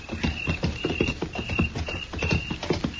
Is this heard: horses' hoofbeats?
yes